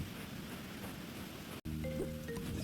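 Steady rain falls at the beach in the Fields of Mistria farming video game, a continuous soft hiss. It breaks off for a split second, then returns with a light melodic tone over it.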